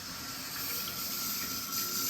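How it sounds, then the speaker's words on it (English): Water running steadily from a newly plumbed tap in an off-grid house being built in the woods, a continuous close hiss filling the whole moment without pause or talk. "Turn on our water."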